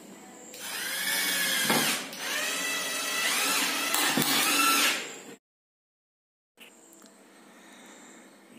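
A power drill drives a screw to fix a plumbing clamp onto a wooden plank. The motor whines up in pitch in long close runs, stops into silence, then returns more faintly.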